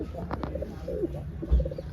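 Low, soft pigeon coos repeat over a murmur of background noise, with one fuller coo near the end.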